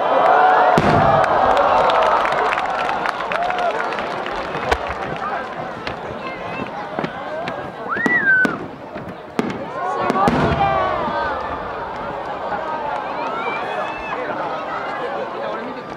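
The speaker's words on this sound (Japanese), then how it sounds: "10号割り物2発上り曲道付き三重芯変化菊虹色流星群" Large No. 10 aerial shells from the Omagari national fireworks competition in Akita burst in sharp booming cracks with crackling tails, over a continuous murmur of a large outdoor crowd with occasional cheers and voices.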